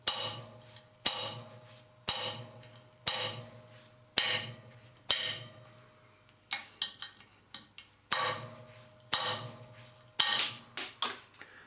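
A chisel-tipped spring centre punch struck against rivet heads to shear them off, giving about a dozen sharp, close metallic cracks at a roughly steady one-second beat, several with quick rattling follow-up taps.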